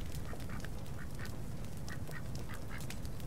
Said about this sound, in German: Oh ja, da kommen jetzt auch richtig die kleinen Enten rausgeflogen.